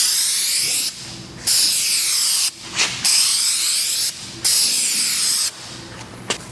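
An aerosol spray can coats a car headlight during restoration, its loud, steady hiss coming in several long bursts separated by brief pauses.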